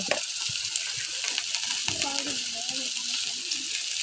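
Okra added to onions frying in oil, a steady bright sizzle running throughout, close up, with someone speaking quietly over it.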